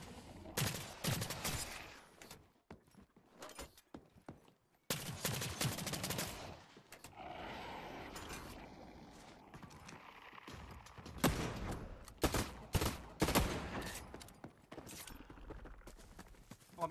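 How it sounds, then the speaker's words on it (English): Video game gunfire rattles in rapid bursts and volleys, loud and close, broken by short gaps with quieter in-game ambience and footsteps between the bursts. "Getting shot at."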